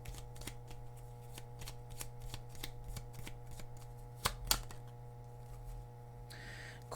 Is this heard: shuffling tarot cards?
yes